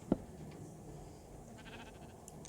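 A single short sheep bleat from Minecraft sounds right at the start, then fades into a quiet, steady background hum with faint clicks and no further calls.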